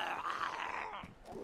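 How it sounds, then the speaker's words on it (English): A wolf in the survival game DayZ, growling on a snowy map: a short, close, low groaning growl that rises and then fades, with no talk. "I hear a wolf."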